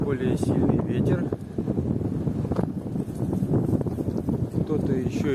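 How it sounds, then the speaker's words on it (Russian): Strong wind on a lake shore buffets the microphone in a constant rough rumble while someone talks over it. "Здесь у нас более сильный ветер."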